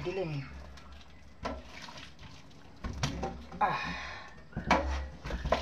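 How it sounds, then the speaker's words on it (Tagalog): Boiled banana blossom (puso) being poured out for kinilaw, with splashing liquid sounds and clattering, while a person talks intermittently. "Buhos na po natin yung puso na linaga."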